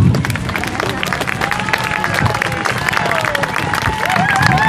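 An outdoor crowd at a bikers' reunion claps and cheers for Colton, a trial bike rider, in a sustained, dense burst of applause with whoops and babble, while a voice carries over it.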